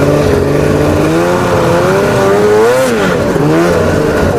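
A Ski-Doo MXZ 700 snowmobile, a 700 engine in a 600 chassis with a full dyno port exhaust, revs loud and close, its two-stroke pitch rising, wavering and dipping over a few seconds.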